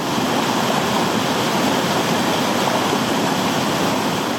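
Continuous broadband rush of water flowing in a geothermally heated hot spring river in Aceh, Sumatra, steady and close with no pauses or voices.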